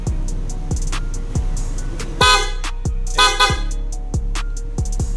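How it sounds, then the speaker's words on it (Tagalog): A loud, close triple horn on a Honda PCX 160 motorcycle sounds two long blasts amid rhythmic beeping tones, over a steady low hum. "Busina!"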